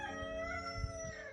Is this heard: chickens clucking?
yes